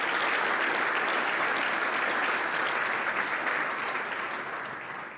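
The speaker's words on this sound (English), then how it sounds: "Please join me in thanking them with a round of applause." Audience applause fills the room at an honor society (NHS) induction ceremony, a dense, steady clapping that holds loud for several seconds and then begins to taper near the end, with no speech over it.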